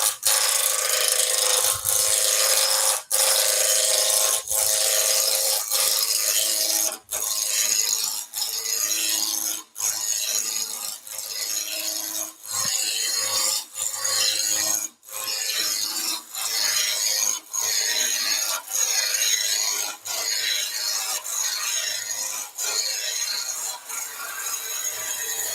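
A 3/4 roughing gouge cuts a wooden bowl blank spinning on a lathe, making a continuous loud scraping rasp that drops out briefly every second or two as the tool is repositioned.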